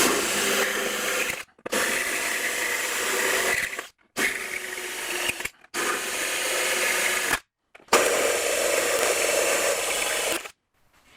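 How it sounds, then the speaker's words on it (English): A 1/2 inch annular cutter drilling holes in metal grinds in several long, steady bursts, each a few seconds, separated by short silent pauses. "I'll switch to the 1/2 inch annular cutter and finish the rest"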